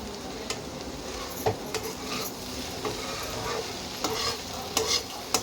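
Carrot and potato fry stirred in a pan, with a steady soft sizzle under repeated scraping and clinking strokes of a utensil against the pan, close and moderately quiet, with no talking.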